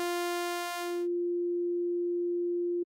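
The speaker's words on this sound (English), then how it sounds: "you're only hearing the sine wave" A synthesizer sine wave holds a pure, steady tone, panned to the right. A buzzy sawtooth tone sounds with it for the first second before dropping away, and the sine ends abruptly with a small click.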